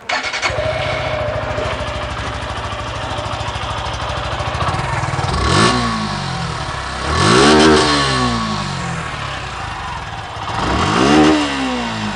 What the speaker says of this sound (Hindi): इस बाइक को स्टार्ट करते हैं और आपको सुनाते हैं कि ये बाइक कैसे साउंड करती है